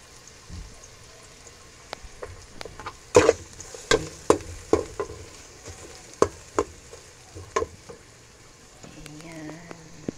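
Onions sauté in a pan for a mung bean stew, with a low sizzle broken by irregular, close utensil knocks and scrapes; a voice speaks briefly at the end.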